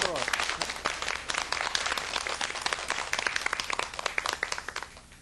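An audience at a lecture applauds, a dense, even patter of many hands clapping at once that continues steadily throughout at moderate volume.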